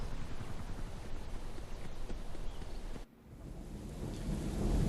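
Steady rain hisses continuously in the video game LifeAfter, with a low thunder rumble building toward the end, briefly dropping out for a moment midway.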